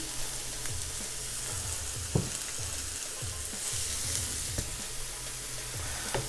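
Steady crackling sizzle of onion and carrot frying in hot oil in a pan, continuous and fairly close, with occasional clinks and stirring scrapes.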